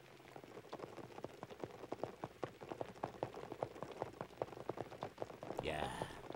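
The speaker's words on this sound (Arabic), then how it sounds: "دلوقتي اسمعي المطر وهو بيخبط على التندة" Rain patters steadily on an awning, a dense close stream of individual drops tapping at moderate loudness, with a brief swell near the end.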